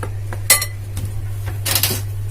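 A spoon clinks against a bowl while raw cocoa and baking powder are stirred together for a chocolate cake, a few sharp metallic taps over a steady low hum.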